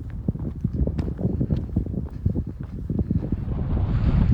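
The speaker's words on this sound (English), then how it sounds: "As you can probably hear on the camera, it is quite windy up here." Steady wind buffets the microphone in low rumbling gusts on a hilltop at Parlick, UK, loud and continuous, growing stronger toward the end.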